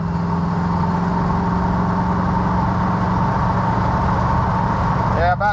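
A 1978 Corvette with a Motorsports Unlimited top end kit and Tremec TKX gearbox, just downshifted into fourth: a steady, loud, droning engine note holds under the cabin, with a voice talking throughout.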